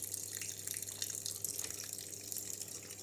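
Water drains from a Denpoo DWF 093HT single-tub washing machine. The flow is steady and trickling, with a low, constant motor hum underneath, and no talk.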